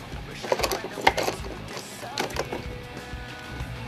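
Ink cartridges being pulled from an Epson R200 printer's carriage give a run of close plastic clicks and rattling knocks over a faint background hum.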